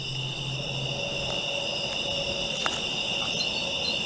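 Crickets chirp at night in a cemetery, a steady shrill trill repeating continuously at moderate level, with a few faint clicks and squeaks scattered through.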